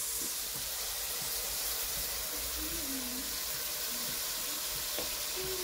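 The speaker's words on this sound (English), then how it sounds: "I'm going to cover it to fry" Steady soft hiss of matoke bananas frying under a lid in a pan, continuous and fairly quiet with a few faint tonal squeaks.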